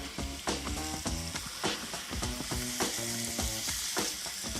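Onions frying with salt in a pan while being stirred, a steady close sizzle punctuated by repeated scraping strokes of the spoon throughout.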